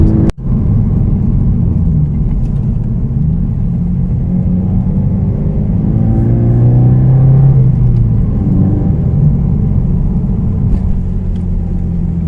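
A Toyota GT86 with a 2.0-litre four-cylinder boxer engine and 200 hp, heard from inside while driving: a steady loud engine drone and road rumble, rising briefly in pitch under acceleration mid-way, after a sharp click at the start.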